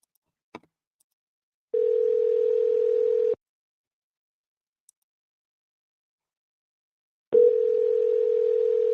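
Telephone dial tone from a call being placed to a home seller: two long steady tones separated by silence, a short click before the first, clear and alone with no talking.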